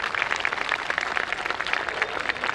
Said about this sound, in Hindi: उनको बहुत जोरदार तालियां करिए हमारे staff के लिए